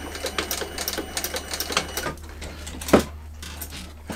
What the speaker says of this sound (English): I'm just doing literally a few stitches back and forwards just to tack it into shape